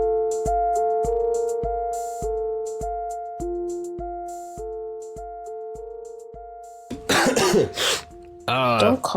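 A person coughs in a short, harsh burst near the end, after a stretch of plucked, stepwise tones, and speech follows right after.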